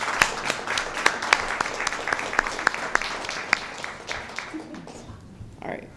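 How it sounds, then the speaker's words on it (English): Applause from the audience at a May advisory council meeting, a spread of claps that is loud at first and then thins out and fades over several seconds. "So if we could all give them applause,"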